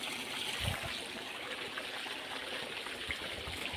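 Water from a running pump motor flows steadily along an irrigation channel on a farm. It makes a continuous, fairly close gurgling rush with no clear pauses, and no one speaks over it.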